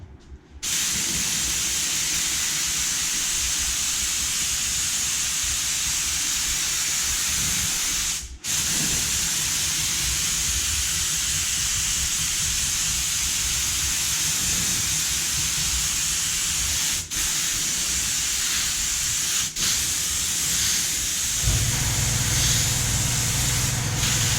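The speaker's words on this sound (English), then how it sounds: "Sorry about that air compressor turning on." An air compressor kicks on near a 1964 Ford F600 seat job, a loud, steady hissing roar that holds for over twenty seconds with brief dips, no talking over it.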